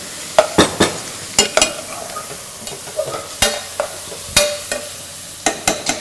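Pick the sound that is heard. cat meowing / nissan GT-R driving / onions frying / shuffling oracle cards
onions frying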